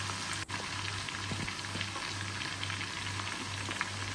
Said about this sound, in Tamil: இப்போ சிக்கனை திருப்பி போடுறேன்.